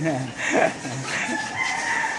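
A hen's clucking and throaty calls, close and clear, with a voice speaking over them on a farm.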